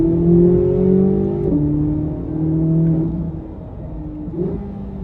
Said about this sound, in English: Listen to this V8. Here it goes. Give it some RPM.